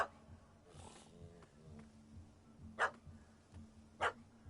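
Dog barks at a cat up a tree in The Witcher 3 game world: two sharp, loud barks stand out over a low ambient game background, with a few fainter vocal sounds earlier.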